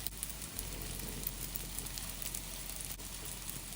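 Preserved vegetable dumplings go into a flat pan of shallow hot oil over medium-low heat, giving a quiet, steady sizzle and crackle close by, with no talking.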